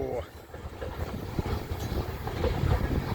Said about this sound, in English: this was a nice little unexpected train